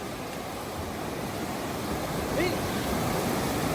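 Waves washing onto a sea shore, a steady broadband roar of surf close by with wind, and a brief voice heard over it.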